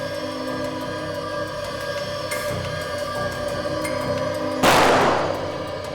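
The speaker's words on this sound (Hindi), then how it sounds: "गोलियां तो लुटेरे ने अंधाधुंध चलाई है सर" A single sharp gunshot cracks out near the end over a steady electronic hum, its burst trailing off for a moment before the drone continues.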